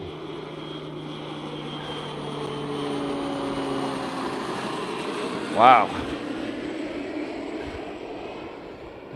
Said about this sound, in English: there's another plane coming, and this one's loud too